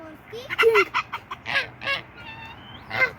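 Several chickens cluck in short, uneven bursts at close range, with brief squawky calls mixed in over a low background murmur.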